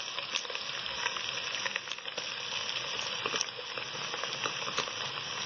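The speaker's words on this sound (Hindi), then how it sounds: "इसको मज़ीद भून लेंगे 1 से 2 मिनट तक" A tomato frying with onions in oil for matar pulao, giving a steady, close sizzle with light crackles and pops throughout, with no voices.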